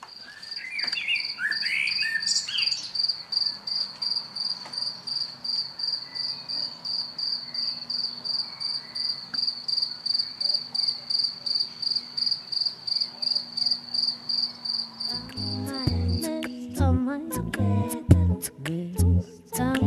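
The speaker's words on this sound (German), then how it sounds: "Heute die Grillen, wie schön ist das hier?" Crickets chirp outdoors in a steady, high, pulsing trill that runs close and continuous for most of the stretch, with a few bird calls early on and some louder knocks and clatter breaking in near the end.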